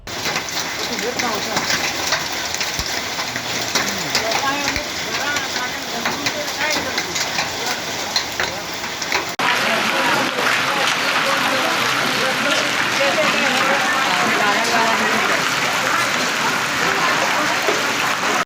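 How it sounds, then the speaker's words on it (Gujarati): Heavy rain driven by strong wind during a summer storm in Valsad district, Gujarat, a dense steady hiss of drops on surfaces that grows louder and fuller partway through, with voices faintly mixed in. "નવસારી અને વલસાડ જિલ્લાના કેટલાક અંતરિયાળ વિસ્તારોમાં ભારે પવન ફૂંકાવાની સાથે વરસાદ પડ્યો છે"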